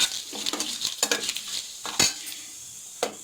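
Bay leaf and cumin seeds frying in oil in a pot, a light crackle broken by sharp metallic clinks and scrapes of a spoon against the pan, close and intermittent.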